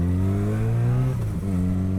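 A car engine drones loudly nearby, its pitch rising, then briefly dipping and shifting as the vehicle goes by.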